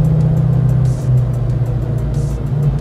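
A Ford Mustang on a race track gives a loud, steady low engine drone as it pulls hard under throttle, heard close from inside the car with the pitch shifting slightly.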